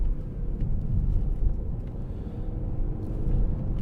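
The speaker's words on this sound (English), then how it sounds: "massive pothole there" A 2016 Volvo V60 2.0 T4 rolls along a road and strikes a pothole, heard as steady close low road rumble with a few bumps and thuds in the cabin, no voices.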